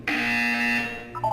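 A buzzer tone from the Portal 2 video game, one steady electronic buzz held for about a second, loud and close, with a short lower electronic blip at the end.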